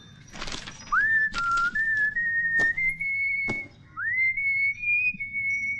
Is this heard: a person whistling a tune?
yes